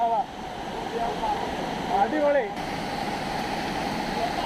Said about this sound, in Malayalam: ദൂധ്സാഗർ വാട്ടർഫാൾസിന്റെ ഫ്രണ്ടിൽ നിൽക്കുകയാണ്